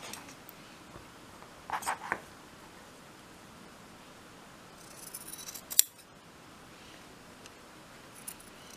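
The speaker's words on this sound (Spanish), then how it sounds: "Estoy cortando el exceso de tela del pie." Scissors snip through excess fabric while trimming the seam allowance of a bias-bound sewing project, giving a few quiet, brief cuts around two seconds in and again near six seconds, with a soft rustle between them and no talking.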